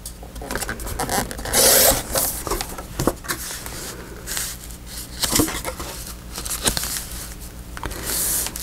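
Paper cut with scissors while making a file-folder folio, giving repeated crisp snips and rustling scrapes at close range, with no talking.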